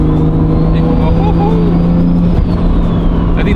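A Nissan Skyline GT-R with a turbo and a whining transmission gearbox: a loud, steady engine drone with a high whine riding on top, heard up close from inside the car for the whole stretch.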